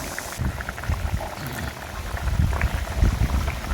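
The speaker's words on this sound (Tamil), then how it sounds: "இப்போ வெங்காயத்தை போடணும்" Chicken curry bubbling at a steady boil in a pot with shallots tipped in, a dense crackling simmer that sounds close and continuous with no talk.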